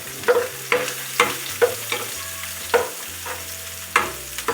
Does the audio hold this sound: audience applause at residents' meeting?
no